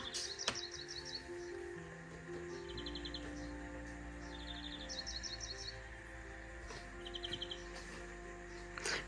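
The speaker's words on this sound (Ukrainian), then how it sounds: "Але отак пташки співають." Several birds sing outdoors, with repeated quick chirping trills that come and go over a steady low background hum.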